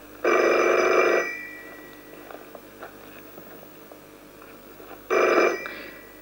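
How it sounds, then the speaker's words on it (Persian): A telephone rings twice with loud electronic trills, separated by a few seconds of quiet room noise. "تلفن"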